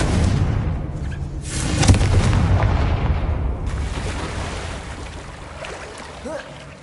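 Confringo fire spell blasting in Hogwarts Legacy, a series of heavy booms and rumbling impacts over a dense, roaring game soundscape, loudest around the middle and trailing off into lighter effects.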